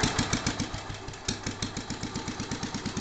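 A 1962 Cub Cadet tractor's small engine fires up and settles into a steady, loud, close chugging idle with a rapid even rhythm, with no talking.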